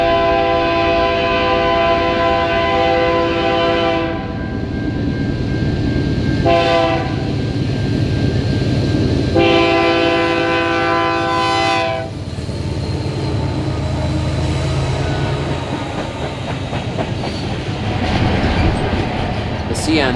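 A Canadian National freight train with helper locomotives rolls by steadily with loud, sustained horn blasts sounding several times over the rumble and clatter of the cars.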